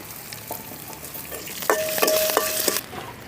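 Onions with garlic, chana dal, cumin, dried red chillies and asafoetida fry in a pan for aala keerai poriyal, a steady close sizzle with several spoon scrapes and knocks midway, no voices.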